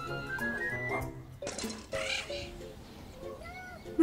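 A frightened cartoon kitten in a virtual pet game gives a few short, high meows, with game sound effects in between.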